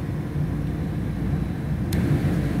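Ship's emergency generator running on battery number 2, a steady droning engine hum at even level with one short sharp click partway through.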